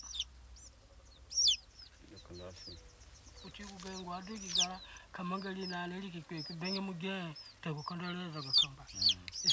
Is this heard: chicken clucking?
yes